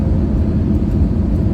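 Steady low cabin rumble of a passenger airplane flying low on approach to landing at Hangzhou, China, a continuous even drone heard from inside.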